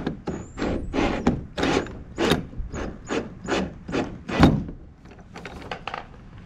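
Screws are driven by hand into a plastic kayak in a run of short, rasping creaks and squeaks, roughly a dozen close, scratchy turns in uneven rhythm with brief gaps between them.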